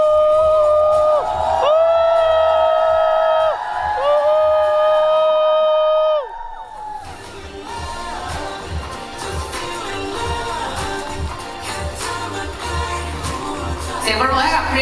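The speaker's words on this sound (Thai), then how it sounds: "เสียงปรบมือให้กับคริสและสิงโตค่ะ" A fan audience cheers and applauds for actors Krist and Singto, leads of the series The Next Meeting. Music plays first, then a loud, dense crowd roar of cheers and clapping swells in and carries steadily to the end.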